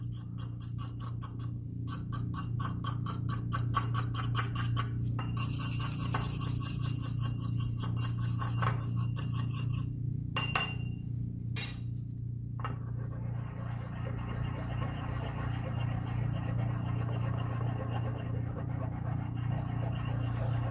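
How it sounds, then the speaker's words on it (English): A spatula scrapes powder from the inner walls of a glass mortar in short, close scratching strokes with small clinks, over a steady low hum. "I am going to need this spatula to remove the powder from the walls of the glass mortar."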